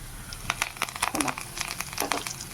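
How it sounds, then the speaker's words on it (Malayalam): Curry leaves hit hot oil, giving close, crisp crackling and spitting pops in quick irregular bursts over a steady sizzle, with no voices. "ഇനി കൊടുത്ത് നമുക്ക് വേപ്പില ഇടാം"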